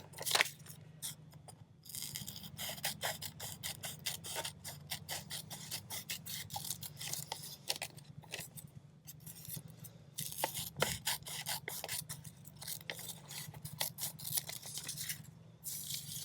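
Scissors snipping out an old paper advertisement in quick, steady strokes, close and crisp, with rapid clustered clicks and paper rustling and no voices.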